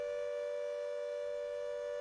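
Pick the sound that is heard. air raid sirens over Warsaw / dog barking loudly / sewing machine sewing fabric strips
air raid sirens over Warsaw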